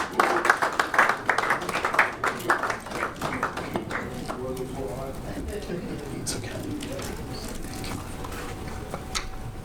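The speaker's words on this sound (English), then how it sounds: "Round of applause, please." An audience at an event applauding as guests are called on stage, with loud clapping at first that fades to scattered claps, while voices carry on in the background.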